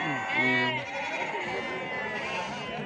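Sheep bleat repeatedly at a crowded livestock market in Amingad, Bagalkot district, Karnataka, their loud, close calls overlapping with people talking nearby.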